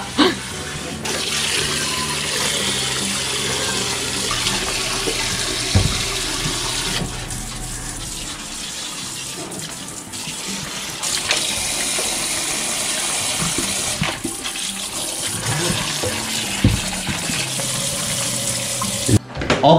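Kitchen faucet running into a sink while northern pike pieces are rinsed, a steady close gush of water for most of the clip with brief interruptions, clattering and handling sounds, and faint talk in the background.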